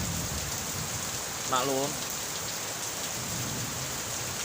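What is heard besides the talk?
heavy rain falling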